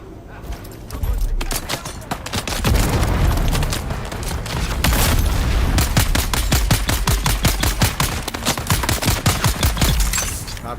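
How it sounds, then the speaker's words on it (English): Sustained automatic gunfire in the video game Dune Awakening, dense rapid bursts with booming impacts running loud and continuous throughout, with a voice speaking over parts of it. "Stop shooting me."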